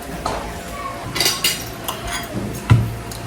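Metal spoons clink and scrape against dishes as crispy pork liempo and food are scooped out, a few close, moderately loud clinks and scrapes with no talking.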